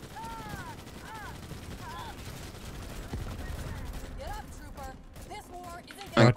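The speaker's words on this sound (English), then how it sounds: "There's a sniper as well shooting this area." Battle gunfire in Starship Troopers: Extermination crackles steadily beneath people talking, with a sharp, loud shot near the end that may come from a sniper.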